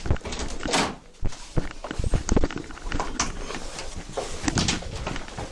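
A door is opened during a police search of a room, with thumps, rattles and scuffing footsteps, loud and close, amid busy handling noise.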